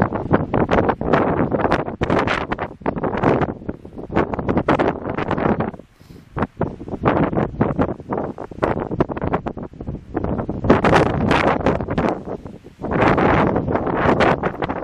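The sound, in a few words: wind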